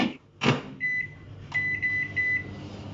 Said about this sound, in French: je le mets 1 minute 30 au micro-ondes